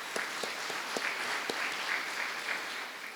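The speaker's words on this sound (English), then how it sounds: "I'd like to give another round of applause for Dr. Kincannon and her leadership." Applause from an audience at a school district teachers of the year event, steady dense clapping with a few sharper claps standing out, filling the short stretch without voices.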